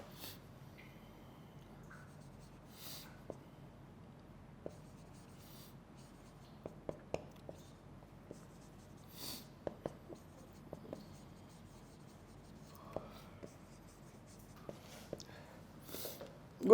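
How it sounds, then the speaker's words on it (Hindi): Marker or chalk strokes on a board during an online English lecture, sounding as faint, scattered taps and short scratches over a quiet room hum, with no talking. "इधर लिख रहा हूँ नीचे,"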